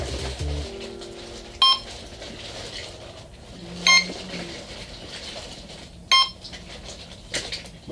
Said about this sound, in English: Would you please unplug that beeping son of a gun?